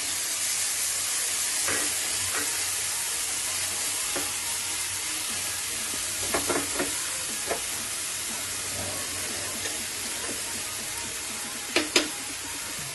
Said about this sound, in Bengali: এখন ফাইন চপ করা পেঁয়াজটা দিয়ে দিচ্ছি।